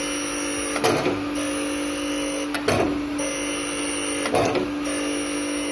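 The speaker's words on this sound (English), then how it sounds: "the entire grinding wheel width is touching the workpiece" A surface grinding machine runs with a steady mechanical hum while its full-width grinding wheel passes over a workpiece, producing three evenly spaced swelling grinding sweeps, moderately loud with no speech.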